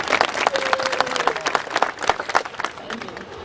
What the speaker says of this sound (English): we've already did a round of applause for the graduates